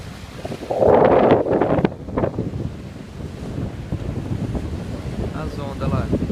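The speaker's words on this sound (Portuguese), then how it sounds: "Tá ventando demais." Strong wind roars against the microphone in a loud gust at a beach in Cotillo, then keeps blustering steadily, with a voice briefly audible beneath it.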